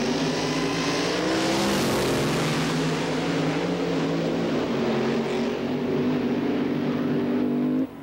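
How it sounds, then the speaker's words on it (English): Nitro-burning drag racing funny cars, including an IROC Camaro funny car, roar continuously and loud at close range for the whole stretch, a sustained engine howl with rising harmonic tones and no talking. "featuring Edmonton's Ed Grekul and his IROC Camaro against Calgary's best, Roger Bateman"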